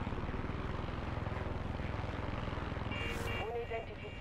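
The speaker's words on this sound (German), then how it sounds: "Unidentifiziertes Flugzeug im gesperrten Luftraum." An aircraft engine drones loudly and continuously in the video game Far Cry 6, a steady pulsing propeller hum from inside or close to the plane, with short electronic tones near the end.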